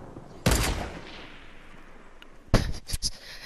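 Sniper shots ring out in Fortnite, one sharp loud crack with a long decaying echo, then a second crack after a pause followed by a quick burst of further shots.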